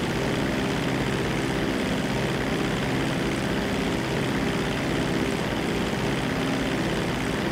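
A steady, loud propeller aircraft engine drones continuously while flying in a GTA video game, a constant dense roar with no breaks or talk.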